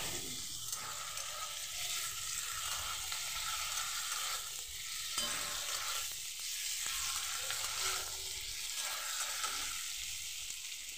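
Mutton liver curry sizzling in a pan while it is stirred, a steady close frying hiss with repeated scraping strokes and no talking.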